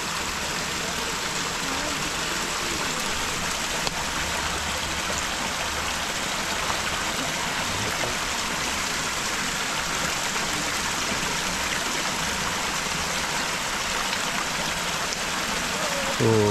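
A jungle stream or small waterfall on a hiking trail rushes in a continuous, dense broadband wash, steady and loud throughout, with rain adding to the noise.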